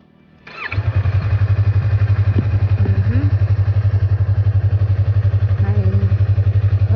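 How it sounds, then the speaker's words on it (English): A Yamaha MT-03 motorcycle engine cranks and catches, then settles into a loud, steady, throbbing idle close by, with a voice speaking briefly over it. "Let's turn on the engine."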